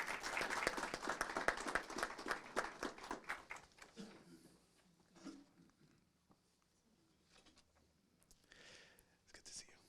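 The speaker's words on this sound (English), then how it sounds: "And if we could give her a round of applause as well." A city council meeting crowd gives a brief round of applause, many hands clapping strongly at first then fading out within a few seconds, followed by quiet room noise with faint murmuring.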